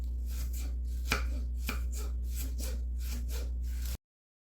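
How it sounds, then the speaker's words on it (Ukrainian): A knife slices cabbage very thinly on a board, roughly a dozen quick rhythmic rasping cuts close by over four seconds, with no talk. "Капусту нарізаємо максимально тонко."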